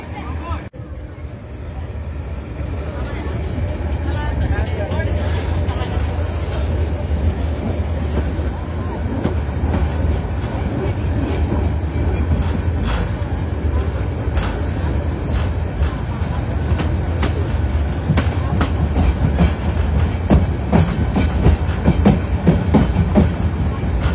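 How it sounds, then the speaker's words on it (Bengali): The Titas Commuter train pulls out of Methikanda railway station with a continuous low rumble and rhythmic clickety-clack of wheels over rail joints. Sharp clanks and knocks come through, with a murmur of voices underneath. "আমাদের ব্রাহ্মণবাড়িয়াগামী তিতাস কমিউটার ট্রেনটি এখন মেথিকান্দা রেলওয়ে স্টেশন ছেড়ে যাচ্ছে।"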